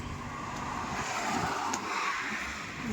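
A customer's car pulls up outside a small shop in a Marathi village setting, its engine a steady broadband rumble that holds close and loud throughout, with a faint higher whine near the end.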